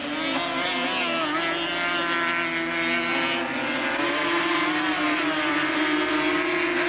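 Racing sidecar outfits roar past at Donington Park in 1982, a continuous loud engine drone with shifting harmonic pitch as the machines approach and pass, steady throughout with no talking.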